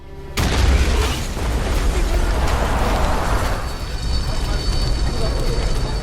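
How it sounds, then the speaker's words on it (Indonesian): An explosion in the Yakuza video game hits with a sudden loud boom, then gives way to a long roaring, crackling rumble like debris and fire that holds steady for several seconds. "klan Omi muncul untuk menyelamatkan Haruka sebelum anggota klan Omi meledakkan tempat tersebut."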